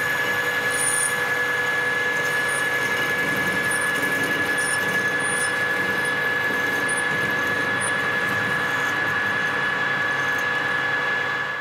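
Lathe parting off a metal piece for a gyroscope shaft, a steady loud drone with a sustained high whining tone and faint scraping of the cutting tool, close and unbroken for the whole stretch.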